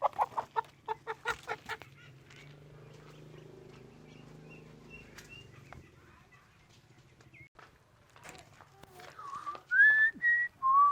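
Chicken clucking in a quick run of sharp notes at the start, then faint background sounds, with whistling and more loud calls toward the end.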